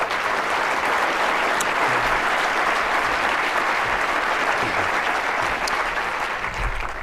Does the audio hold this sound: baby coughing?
no